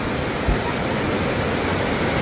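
Steady broadband rush of a river flowing right beside a glamping site at Saung Baheula in Sentul, Bogor, constant and fairly close with no clear voices.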